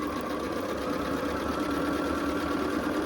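An electric sewing machine stitching quilt blocks for a Southwest blanket quilt runs in a steady, continuous mechanical whir with a fine rhythmic needle chatter, close and even throughout.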